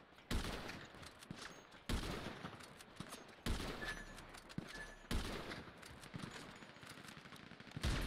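Heavy sniper rifle shots in GTA 5 crack out at regular intervals of about a second and a half, each sharp report trailing into a rumbling echo before the next.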